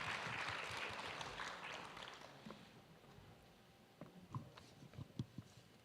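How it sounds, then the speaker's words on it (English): An audience claps to welcome a speaker at a governance symposium, dense applause that fades over several seconds and leaves a few scattered claps near the end. "Let's welcome her with a big round of applause."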